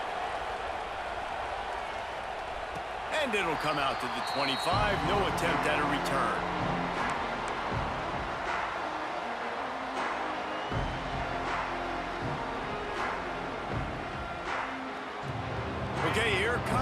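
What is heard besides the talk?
stadium crowd noise in NCAA Football 26 video game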